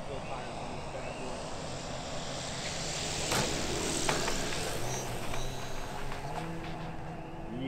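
Large Dancing Wings Tiger Moth RC biplane with a 2150 mm wingspan making approach passes outdoors, its engine a steady drone that swells slightly mid-pass over continuous wind noise.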